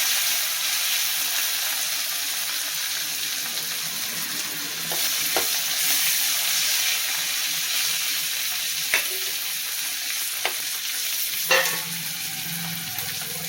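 Turkey berries (sundakkai) fry in hot oil with a steady, close sizzle throughout, broken by a few sharp clinks of a utensil against the pan.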